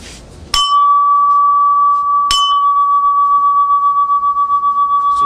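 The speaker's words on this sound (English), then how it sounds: "a couple of the things that we looked at are the alu bells we have and some radia cup chimes" Two metallic strikes on Sabian alu bells and radia cup chimes, each a sharp clang followed by a long, pure ringing tone that sustains and slowly beats as it decays, loud and close with no talk.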